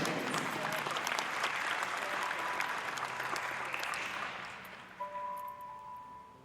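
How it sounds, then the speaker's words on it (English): Crowd applause at a dairy cattle show for a grand champion Holstein cow, sustained clapping that gradually fades toward the end, followed by a few faint tones. "Let's have a round of applause for our grand champion Holstein, Brookvilla Goldwyn Brooks."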